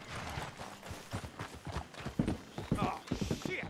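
Horses in Red Dead Redemption 2 clip-clop in a steady irregular rhythm, moderately close, while characters talk over the hooves.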